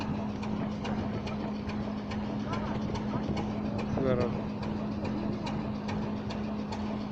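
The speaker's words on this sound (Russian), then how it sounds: "Локомотив ЧМС 3 гудит дизелями." Diesel engines of a ChME3 shunting locomotive idle at a main railway station, a steady low hum with faint rhythmic piston knocking running throughout, while a person briefly speaks nearby.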